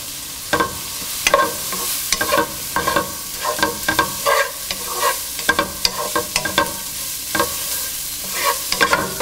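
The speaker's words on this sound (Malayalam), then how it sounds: "ഉള്ളി കുറച്ച് വഴന്നു കഴിയുമ്പോൾ ഇതിലോട്ട് എടുത്തു വച്ചിരിക്കുന്ന മഞ്ഞൾപ്പൊടി ഇട്ട് മിക്സ് ചെയ്യുക" Sliced onions sizzle in hot oil for a fish roe and coconut thoran as a spoon stirs in turmeric powder, with steady frying hiss and frequent sharp scraping clicks against the pan, close and fairly loud, no talking.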